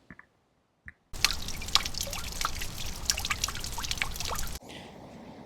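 Rainwater from a downspout spills into a 55-gallon collection drum, a loud, close trickle and patter of drips that starts abruptly after a near-silent moment and stops just as suddenly.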